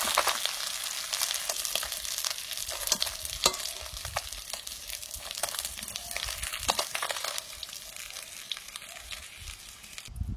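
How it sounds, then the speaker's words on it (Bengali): Fish fries in mustard oil in a pan with a continuous crackling sizzle and frequent sharp spatters and pops, while pieces are lifted out one after another with occasional scraping. "মাছগুলো ভাজা হয়ে গেছে, পরপর তুলে নিচ্ছি"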